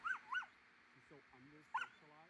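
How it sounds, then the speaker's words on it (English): A dog whimpers and yips in short high bursts, two quick cries, a pause, then another, mixed with softer whiny vocal tones in a calm setting. "This is a good dog."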